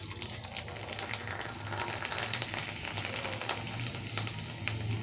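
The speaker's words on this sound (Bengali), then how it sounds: "এবার পাঁপড়গুলো ভাজবো।" Sago papad frying in hot oil, producing a dense, steady crackling sizzle close up, with small pops and a low background hum beneath it throughout.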